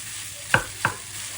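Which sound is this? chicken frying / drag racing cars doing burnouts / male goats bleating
chicken frying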